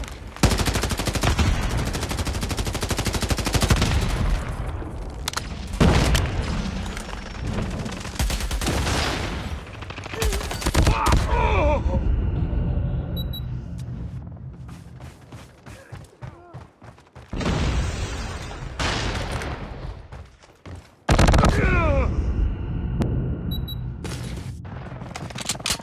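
Call of Duty Mobile match gameplay: loud bursts of automatic gunfire and grenade explosions with heavy booms, rapid and repeated, broken by short quiet gaps and brief in-game voice callouts.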